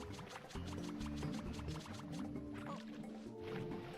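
A waterfall in the video game Super Mario 64 DS gives a steady rushing wash of water that runs throughout, with rhythmic background music layered over it.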